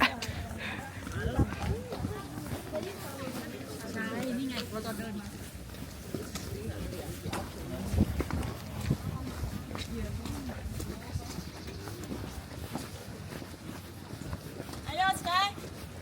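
A horse-drawn carriage rolls along a street in Bern's Old Town, its hooves clip-clopping in a quiet, steady rhythm at moderate distance beneath near-constant conversation and street ambience.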